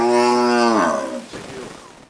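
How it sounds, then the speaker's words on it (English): A herd of Boran and crossbreed cattle on a prison farm: one loud, close, drawn-out moo that falls in pitch and fades after about a second, followed by quieter shuffling. "a herd of cows comprising of Boran and crossbreed cattle"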